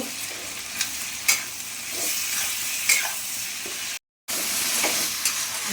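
Spice masala with chili powder and cumin fries in a hot kitchen pan, a dense even sizzle broken by spatula scrapes and taps, with one short gap of silence.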